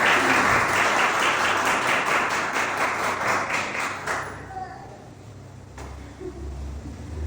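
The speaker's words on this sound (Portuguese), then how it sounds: "Aplauda Jesus mais uma vez." A church congregation claps loudly and steadily in a rhythmic burst lasting about four seconds, then the applause stops abruptly, leaving a quiet room with faint thuds and low murmur.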